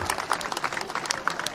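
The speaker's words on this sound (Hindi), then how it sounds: "जोरदार स्वागत और अभिनंदन, जोरदार तालियां।" Applause from a crowd at a political rally in the Luni assembly area of Jodhpur, a dense steady patter of many hands clapping at moderate distance throughout.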